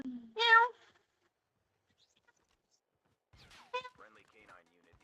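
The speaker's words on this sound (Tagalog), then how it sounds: "Ay, pusa." A cat meows twice during a Call of Duty game session: a clear, close meow near the start, then a second meow a few seconds later followed by brief faint talk, with near silence between.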